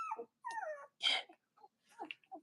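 Week-old puppies dreaming let out several short, high whimpers and tiny yips in irregular bursts with silent gaps between them, close and fairly soft, with no talk over them.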